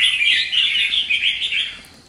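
A caged red-whiskered bulbul, a wild-caught bird offered for sale, gives a steady run of bright, high chirping calls. The calls are close and fairly loud and continue without a break, with no talk over them.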